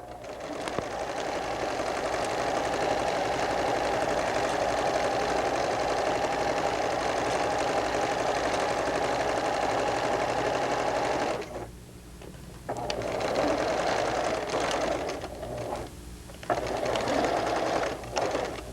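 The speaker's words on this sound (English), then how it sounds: "Now I'm sewing the piping in the second seam of my sleeve." Sewing machine stitching piping into a sweater sleeve seam, a loud, fast, steady mechanical chatter that runs continuously, then pauses briefly twice before resuming.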